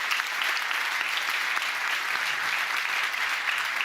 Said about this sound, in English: Please give it a round of applause for the panelists today.